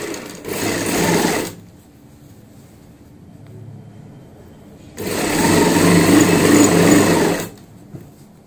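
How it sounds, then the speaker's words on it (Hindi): An electric sewing machine stitching the side seam of box-pleat palazzo pants, two loud close whirring runs of rapid stitching separated by a quieter pause. "अब हमें यहाँ से नीचे से मिलाते हुए इस प्रकार से साइड की ये सिलाई लगानी है।"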